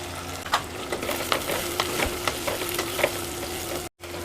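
Dried manathakkali berries and drumstick sauté with onion and garlic in a pan, a continuous crackling sizzle punctuated by regular scraping stir strokes, close and steady with a brief drop-out near the end.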